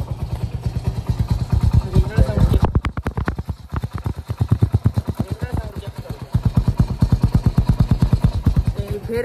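A Hero Splendor motorcycle engine running right after a kick start, with a loud, steady, rapid thumping exhaust beat close by. The rhythm briefly dips and then picks back up.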